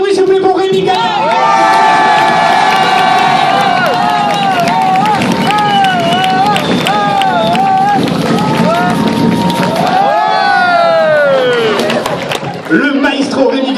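A large cinema audience cheers and whoops for Rémi Gaillard, loud and sustained, with shrill whistles and shouts rising and falling throughout before easing near the end.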